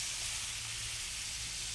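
Mushrooms sizzling in a hot pan, a steady, even hiss of frying that stays constant and fairly close throughout with no other sounds.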